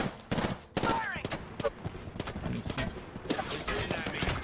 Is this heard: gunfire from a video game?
yes